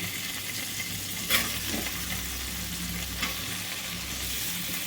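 Paneer pieces being stirred and fried in a masala in a pan: a constant soft frying hiss with a low hum beneath, broken by a couple of faint spatula scrapes, with no talking.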